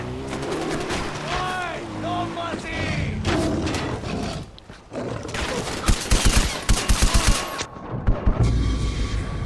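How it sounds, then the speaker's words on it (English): Rapid gunfire bursts in Far Cry 4, loud and close, in stuttering volleys toward the end, with talk and other game sounds running beneath. "I shot that guy like 7 times"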